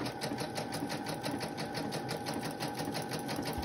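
A sewing machine set to zigzag runs steadily, a continuous fast, even mechanical whirr and rapid needle patter heard close up with no voices.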